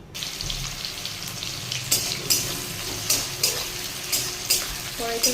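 Onions frying in a pan for Bengali mutton kosha, a continuous sizzle punctuated by a regular series of sharp spatula scrapes and knocks against the pan, close and loud, with a faint trickle of water late on.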